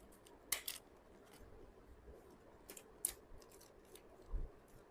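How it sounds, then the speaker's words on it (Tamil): Folded paper packing covers for cup sambrani are stapled shut, giving a few sharp, crisp clicks, a close pair early on and another later, over quiet handling rustle with no voices. "நம்ம பின் அடிச்சுட்டா போதும்."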